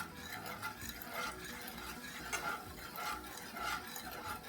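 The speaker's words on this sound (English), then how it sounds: "Gonna give that a quick stir" A spoon quickly stirs sugar and key lime juice syrup in a pot, making soft, faint, rhythmic scraping clinks that repeat every half second or so.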